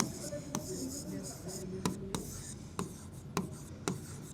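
A pen scratches across paper while maths working is written out, with soft continuous scribbling and a few sharper taps, close up over a low steady background hum.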